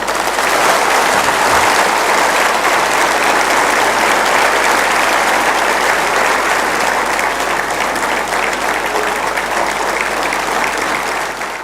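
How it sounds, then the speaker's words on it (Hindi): Sustained, dense audience applause fills a large auditorium at a Gujarati folk literature (Loksahitya) stage event, loud and steady throughout without letting up. "उसके लिए तालियां कमज़ोर थीं।"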